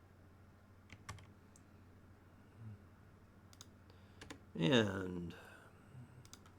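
Sparse, fairly faint keystroke clicks on a computer keyboard while entering parts of an RP2040 circuit schematic, with a short burst of speech in the middle.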